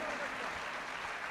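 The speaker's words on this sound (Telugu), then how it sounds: "చప్పట్లు కొట్టాలి గట్టిగా" A church congregation claps loudly during a worship service, a short, dense burst of applause with no voices on top.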